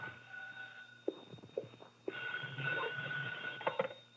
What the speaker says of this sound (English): My phone was ringing when I got there.